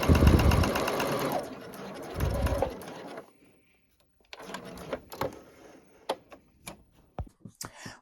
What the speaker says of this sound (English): I'm going to do 2 stitches forward and a couple back just to secure it, and then I'm going to run the gathering stitch all the way down